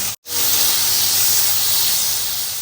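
Ground spices and prawns go into hot oil that has been frying onions, a loud, close, steady hiss that starts at once after a brief silence and holds to the end.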